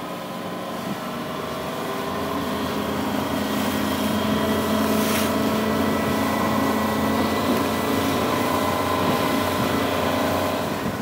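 A Bennington QX28 pontoon boat with a Yamaha 425 XTO outboard cruises around 10 mph, its engine giving a steady, continuous close-up hum and drone that builds slightly and holds even.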